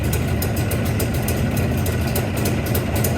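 A Jawa 350 motorcycle engine idles loudly up close, a dense, even mechanical clatter with rapid regular ticking over a rough low rumble, steady throughout with no voices.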